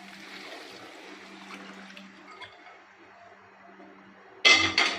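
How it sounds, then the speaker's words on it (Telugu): Leftover mutton cooking water is poured into a pot of biryani in a home kitchen. A quiet, low background gives way to a short, loud, splashy pour near the end. "ఆ వాటర్ అందులో పోసుకోవాలి."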